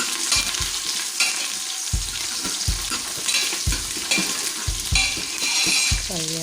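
Curry leaves crackling and frying in hot oil in a pan, a loud close sizzle broken by repeated spoon strokes and knocks against the pan in an uneven rhythm, with no voices.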